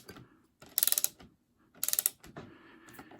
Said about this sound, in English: we're going to be torquing until we hear it snap